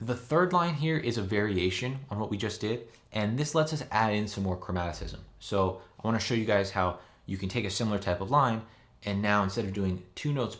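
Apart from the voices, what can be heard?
None of the usual background noises is heard.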